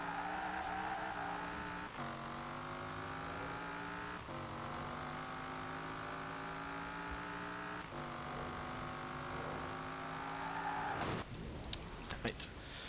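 Engine of a 1987 Pontiac Firebird Trans Am GTA in Forza Horizon 4, a steady loud drone climbing in pitch through repeated gear shifts, with a brief scrape and clatter near the end.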